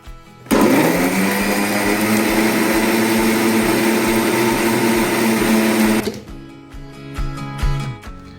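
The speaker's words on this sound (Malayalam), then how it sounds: "ആവശ്യത്തിന് വെള്ളവും ചേർത്ത് നമുക്ക് അരച്ചെടുക്കാം." A blender grinds passion fruit with water for juice, starting abruptly with a loud, steady motor whir that holds for several seconds, then cuts off, leaving light clatter.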